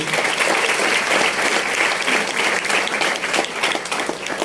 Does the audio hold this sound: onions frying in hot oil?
no